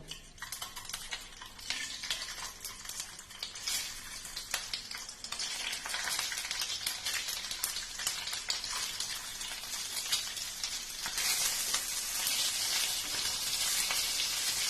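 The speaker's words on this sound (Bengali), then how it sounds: "ডিমগুলোকে এপিট ওপিট করে ভালো করে ভেজে নেবো" Steady crackling sizzle of boiled eggs frying in a pan, turned side to side, continuous and close, growing slightly louder and brighter toward the end, with no voices.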